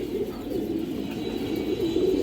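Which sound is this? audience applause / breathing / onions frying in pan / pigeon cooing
pigeon cooing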